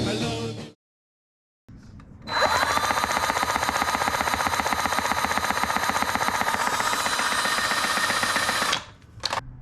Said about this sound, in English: one semi-refurbished Magneto. Spins a lot better than it used to.